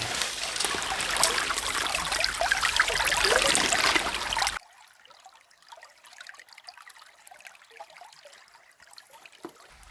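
Creek water flows and trickles around a submerged flashlight, a loud, busy rush for about four seconds that cuts abruptly to faint, sparse water sounds.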